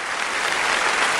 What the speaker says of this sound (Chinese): 来，可以鼓掌